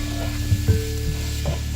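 Sweet paprika is stirred through sizzling stew ingredients in a pan for a beef and prune stew, with a steady close fry hiss broken by a few soft scraping stirs and utensil knocks, and no voices.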